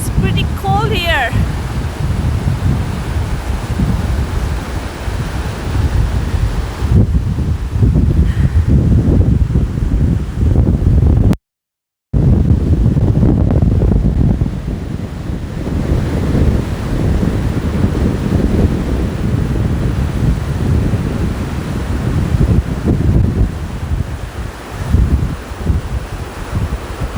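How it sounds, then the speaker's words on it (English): Strong wind blows outdoors in cold, misty weather and buffets the microphone. It makes a loud, continuous roar with rolling gusts throughout, broken only by a brief dropout. "There's wind and the weather is pretty cold here."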